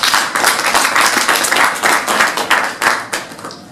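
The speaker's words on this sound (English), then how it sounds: "Would you please give them a big round of applause?" An awards-night audience at the 2016 ICMF coaching and mentoring awards claps loudly for the nominees, a dense, steady wash of hand claps with a few sharper individual claps, tapering off near the end.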